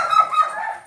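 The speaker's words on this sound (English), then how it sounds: "my dogs are having a fit because my husband came home" Several excited dogs bark and yip indoors at a man arriving home, a short burst of high, wavering cries at moderate loudness with no talk over it.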